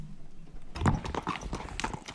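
Pony hooves clip-clopping on a hard surface at the start of an endurance ride, a steady close series of hoof strikes beginning after a moment of low background noise.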